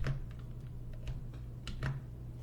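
Computer keyboard keystrokes as a URL is pasted into a Smartsheet form, a handful of soft, close clicks scattered irregularly over a low steady hum, with no talking.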